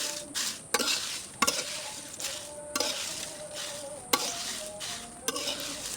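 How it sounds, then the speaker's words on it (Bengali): Lemon leaves and jackfruit seed skins fry in a wok with a steady hiss, broken by sharp scraping stirs that recur every second or so, close and fairly quiet. "কড়াই বসিয়ে এবার লেবু পাতা এবং হচ্ছে কাঁঠালের বিচির খোসাটা দিয়ে ধীরে ধীরে এগুলোকে ভেজে নেব"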